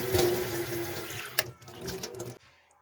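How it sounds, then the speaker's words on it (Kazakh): Running tap water splashes steadily into a sink during face and hand washing, a close, continuous broadband rush that ends abruptly near the end, with a brief knock partway through. "бет қолымды жуамын"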